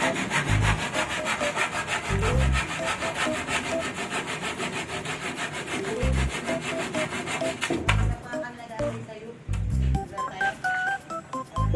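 Steady back-and-forth rasping of a hand saw cutting through wood, close and loud, with rhythmic strokes and a few brief pauses between cuts.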